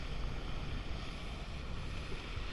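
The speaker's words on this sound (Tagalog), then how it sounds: "Eh, lalakas ng alon, ang hirap niyan." Strong sea waves surging around a boat on rough water, a steady loud rush of surf and wind with heavy low rumble throughout, no voices.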